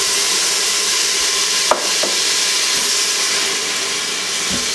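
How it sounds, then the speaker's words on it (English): White wine poured onto toasted arborio rice and garlic in a hot pressure cooker gives a steady, close hiss of frying and steam, with a sharp clink of a utensil partway through. "with it still on high heat, I'm going to go ahead and add in our white wine"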